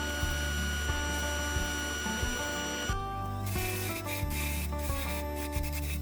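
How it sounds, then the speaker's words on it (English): A mini angle grinder smooths the surface of a carved wooden crown, giving a steady, loud, high-pitched whine with a harsh abrasive rasp that shifts in tone midway as the contact changes. "I use a mini angle grinder to smooth the surface of the crown."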